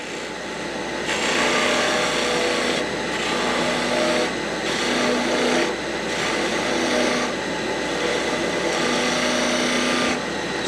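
A wood turning tool's nose takes small cuts on a spinning wooden Christmas sphere ornament on a lathe, a steady loud whirring hum with tonal bands that pulse in repeated stretches as the cuts come and go.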